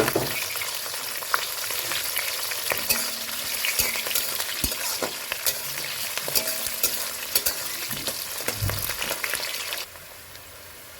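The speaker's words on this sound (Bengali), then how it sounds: "সমস্ত পেঁয়াজ দিয়ে আমি একটু হালকা নেড়ে চেড়ে নেব" Chopped onions fry in a pan with bay leaves and whole garam masala, a steady close sizzle broken by scraping stirs, with no voices.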